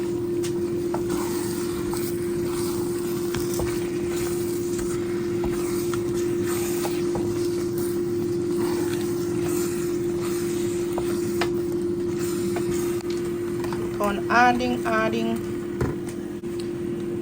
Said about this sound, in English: That noise you're hearing in the background, that is the air fryer.